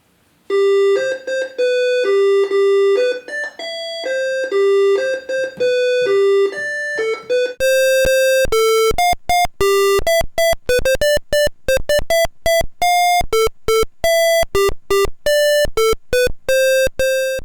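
An Apple Lisa computer beeps out a Polish nursery tune in clean square-wave tones, first as smooth held notes, then as a faster run of short, sharply separated beeps, loud and alone.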